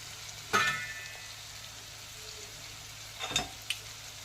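Sliced onion and green chillies drop into oil left from frying dried fish for a Godavari-style brinjal curry, giving two short sizzling bursts over a faint, quiet background.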